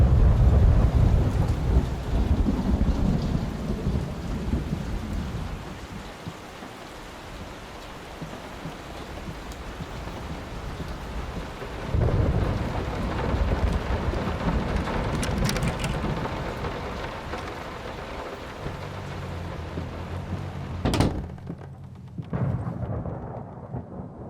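Thunderstorm in the horror game Layers of Fear: steady heavy rain hisses throughout while low thunder rolls and rumbles in several swells, with a sharp crack late on before the rain thins out.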